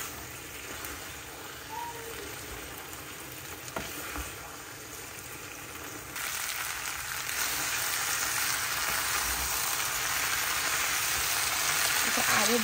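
Food fries in a pan with a continuous soft sizzle, growing louder and denser toward the end, heard close up in a home kitchen.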